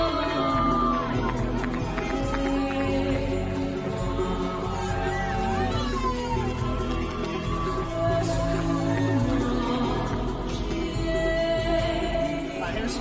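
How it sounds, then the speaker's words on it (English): A crowd cheering and whooping at a race event, the sound carrying from a distance over footsteps and ambient bustle, with voices nearby throughout. "I hear some cheering, dude."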